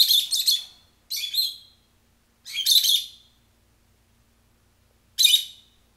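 Four short bursts of chirping from a pet lovebird, close and fairly loud, spaced apart with silence between them and no voices.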